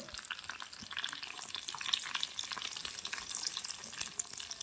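Chicken wings frying in oil in a small miniature pan, a dense, steady crackling sizzle with sharp pops, close and continuous with no talking.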